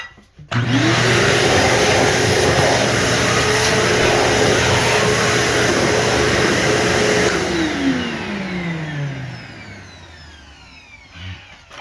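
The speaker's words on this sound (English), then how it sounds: "just vacuum her up" A vacuum cleaner switches on loudly and runs steadily for several seconds during LVP flooring installation, then winds down with a falling whine as it shuts off.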